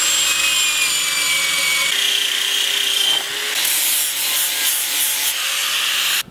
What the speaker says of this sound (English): It only took one soak in the Coca-Cola and 5 minutes or so with the angle grinder and the brush to get it all completely done.